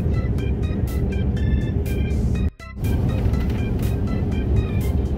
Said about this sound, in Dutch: Ik zat dus net op de bus.